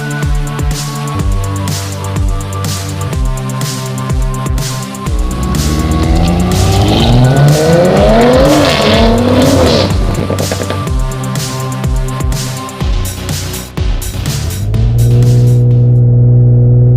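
An Audi RS4 Competition drives hard, its engine revving loudly through rising and falling sweeps with steady motor drone before and after; any tire squeal is hard to pick out, and no one speaks.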